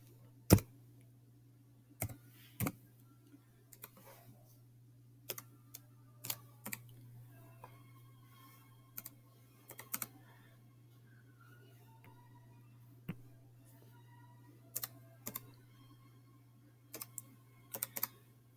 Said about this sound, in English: let me get it typed in before you tell me that